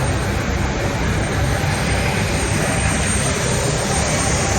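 A steady, loud roar of airliner engines fills the passenger cabin. The broadband drone runs unchanged for the whole clip, with no clear speech over it.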